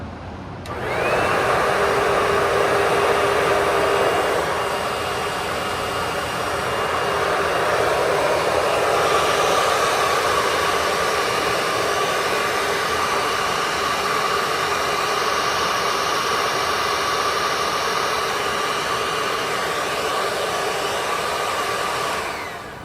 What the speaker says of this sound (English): The motor sounds surprisingly good.